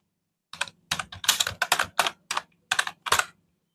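A name being entered as account holder on a computer keyboard: a close, crisp series of about ten quick key taps in uneven clusters, alone against silence.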